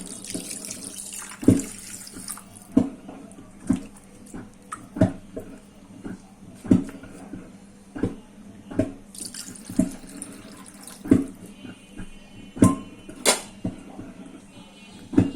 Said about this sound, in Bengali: আমি এখানে হাফ কাপের মতো পানি দিয়ে দিই।